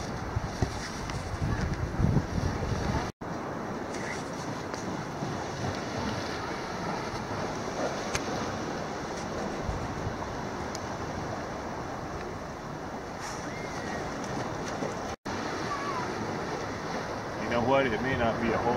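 Ocean surf rolling onto a beach where someone is fishing with a pole, a steady broadband wash with gusts of wind buffeting the microphone, continuous and fairly loud for the whole stretch, with no one talking.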